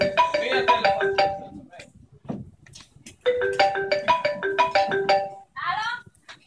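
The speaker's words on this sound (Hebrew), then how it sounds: "טלפון." A telephone rings during a family meal with a loud melodic ringtone: two repeated phrases of bright tones, a short gap between them, then a brief final burst.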